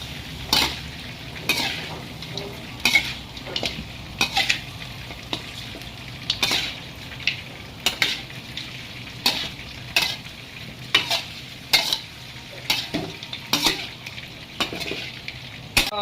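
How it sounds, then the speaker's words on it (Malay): Mouse-deer meat sizzles and fries steadily with spices in a pan while a utensil stirs and scrapes through it in repeated clacks, up close with no talking. "Kita kacau-kacau dia sampai sebati dengan rempah yang kita goreng tadi."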